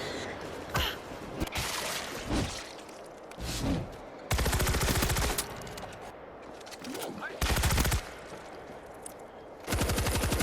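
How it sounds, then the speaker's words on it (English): A mounted machine gun in the World War Z: Aftermath video game, Korea map horde mode, rattling in several loud sustained bursts of rapid fire, with quieter gaps and people talking in between. "I'm on the Alamo machine gun"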